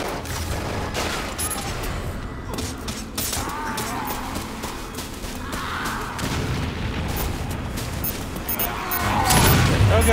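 Grenade blasts and gunfire in the online shooter Resident Evil Umbrella Corps, a dense continuous barrage of booms and crackling shots that swells louder toward the end, with no speech over it.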